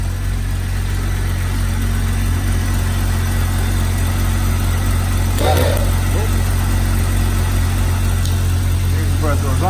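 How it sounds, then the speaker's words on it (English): An ARB twin air compressor runs with a loud, steady low drone and constant vibration throughout, close by, with a brief clunk midway. "The air compressor is on."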